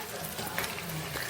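Chicken pakoda pieces fry in hot oil, giving a dense, steady crackling sizzle that fills the short stretch without pause.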